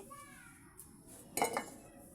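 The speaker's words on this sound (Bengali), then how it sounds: "ফ্রাই প্যানটা বসিয়ে দিচ্ছি" A frying pan set down on a stove, a quick metallic clatter and clink near the middle, close and moderately loud over a quiet kitchen background.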